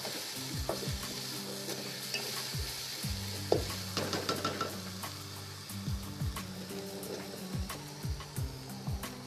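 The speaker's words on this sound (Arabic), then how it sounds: "هاي البصل بدأ يتحمر عندنا" Onions sizzle in a pan, browning while being stirred, with a continuous crackle and intermittent scraping and clinking strokes, close and fairly soft, no voices.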